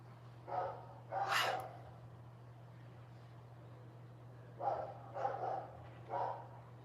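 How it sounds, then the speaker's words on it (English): Dogs bark at a distance in two bursts, first a pair of barks and then three more a few seconds later, moderately loud over a low steady hum. "Those dogs are quite the noise pollution."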